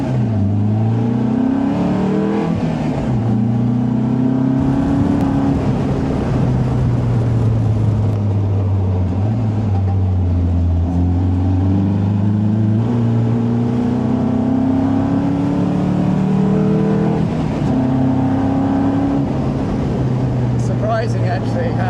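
Caterham 270 sports car driven hard through corners, its engine droning and rising and falling in pitch as it accelerates and lifts between bends, loud and continuous, with someone talking over it.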